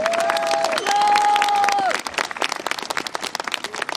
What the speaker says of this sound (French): Et je voudrais qu'on applaudisse tous les bénévoles qui ont tout organisé depuis ce matin très courageusement